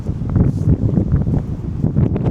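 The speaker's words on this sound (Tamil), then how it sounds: "ஏன்னா பின்னாடி வந்து பனிமலைனால நல்லா சில்லுன்னு காற்றடிக்குது" Cold wind blows in the snowy mountains of Spiti Valley beside the Sutlej river, a loud, continuous rushing gust buffeting the microphone with rough low rumble throughout.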